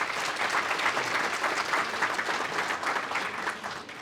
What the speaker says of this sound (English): Please, a round of applause for these guys.